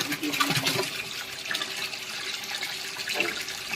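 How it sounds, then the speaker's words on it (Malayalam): Water gushing and splashing from the outlet of a 26-volt, 450-watt BLDC DC motor pump during a fitting test, a steady close splattering flow with a fluctuating, bubbly texture throughout. "അതാണ് മോട്ടറിൽ നിന്ന് വെള്ളം ചാടുന്നുണ്ട്."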